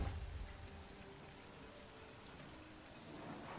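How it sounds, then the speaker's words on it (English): Steady rain falls in the Last Epoch video game as a soft, even hiss with no clear individual drops, faint and continuous throughout and without talking. "It's raining all over the world."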